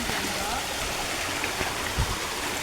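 Water rushes steadily down a waterfall and its stream, a constant close wash with no pauses and one soft thump near the end.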